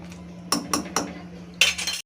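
A utensil stirs vatha kuzhambu in a cooking pot, giving a few clinking scrapes in a quick run, a pause, then another cluster, close by over a low steady hum.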